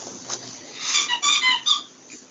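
A rubber dog toy squeaked several times in quick succession, the squeaks bunched close together, fairly quiet and close, with a faint background hum and no talking over them.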